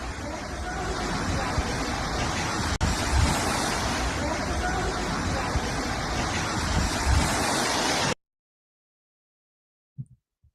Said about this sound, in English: Gusts of wind tore down banners and billboards.